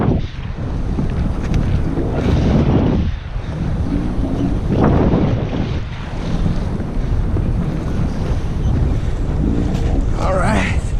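Strong wind roars steadily around a sailboat being anchored in big waves, with buffeting microphone wind noise and crashing surf filling the whole stretch at close range.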